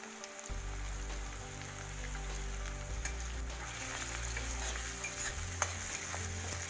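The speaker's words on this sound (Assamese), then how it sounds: "এতিয়া ইয়াত কাটি থোৱা পিঁয়াজখিনি তেলতে ভাজি এতিয়া হালধি এড কৰি দিছোঁ।" Chopped onions frying in oil with turmeric in a pan for jackfruit curry, a continuous close sizzle with occasional stirring scrapes and no voices.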